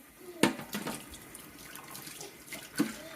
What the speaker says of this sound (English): Wash my hands one more time.